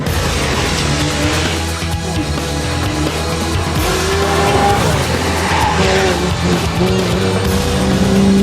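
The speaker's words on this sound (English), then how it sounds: "it just makes you feel so good when you get to drive a car this fast" A new Porsche 911 sports car engine roars at speed with sustained high revs and tire noise, loud and close throughout.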